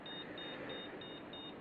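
An electronic component tester emits a series of thin, evenly spaced high beeps, about five in steady rhythm, over a faint hiss.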